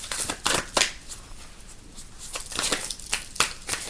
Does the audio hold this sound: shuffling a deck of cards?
yes